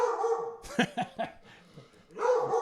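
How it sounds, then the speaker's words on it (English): A pet dog indoors lets out a short burst of sharp barks and yips, several quick close barks in a row, with whining or muffled vocal sounds before and after. "Which dog is that one?"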